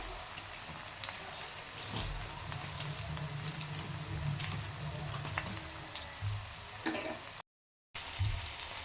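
Cauliflower gobi pieces fry kebab-style in oil, giving a steady close crackling sizzle scattered with small pops. It stays constant for several seconds, with one brief silent gap near the end and no talking.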